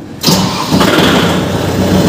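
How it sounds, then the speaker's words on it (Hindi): A Kubota MU5502 50 HP tractor with an inline pump is started with a key: a brief crank and catch, then a loud, steady diesel idle close by. "ये चाबी से चालू, ये चाबी से बंद, है ना।"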